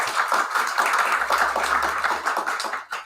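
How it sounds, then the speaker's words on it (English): Short burst of audience applause at an Oxford talk about the Morse, Lewis and Endeavour television series, a steady mass of clapping from a modest crowd, tapering off quickly. "John Howson wants to give you a round of applause."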